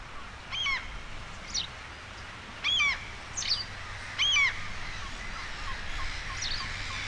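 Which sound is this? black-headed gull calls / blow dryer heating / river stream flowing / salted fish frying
black-headed gull calls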